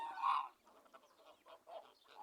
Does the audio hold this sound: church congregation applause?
no